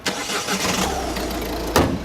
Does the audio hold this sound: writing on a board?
no